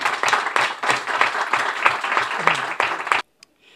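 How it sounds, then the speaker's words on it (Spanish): Audience applause at a book presentation in a bookshop, dense steady clapping from a seated crowd that cuts off abruptly near the end, followed by a brief faint sound. "yo pedía un gran aplauso para un valiente como Jesús Ángel"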